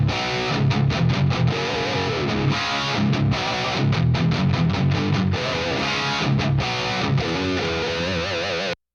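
A heavily distorted electric guitar through a Soldano Astro 20 amp on its red high-gain channel plays chugging, palm-muted riffs with punchy bursts and brief stops, loud and close, with no voices.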